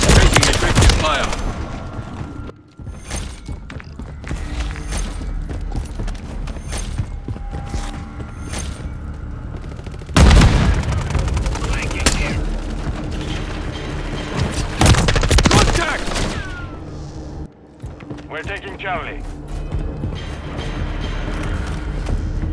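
Gunfire and explosions in Call of Duty: Modern Warfare 3, with dense bursts of shots and heavy booms that come and go over a constant loud battle din, under radio-style voice callouts.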